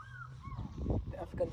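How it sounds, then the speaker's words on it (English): A large black-and-white fish eagle gives a short series of high, falling calls, heard faintly at a distance over quiet background noise. "So there's their sound. Fish eagle."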